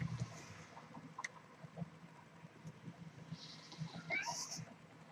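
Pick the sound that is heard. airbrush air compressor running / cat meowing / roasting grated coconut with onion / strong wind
cat meowing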